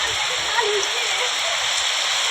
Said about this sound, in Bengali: আমাদের এখানে আজকে খুব বৃষ্টি হচ্ছে, জোরে বৃষ্টি